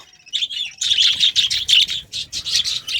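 Small birds chirp in quick, repeated high tweets, a busy and fairly close run of calls with no talking.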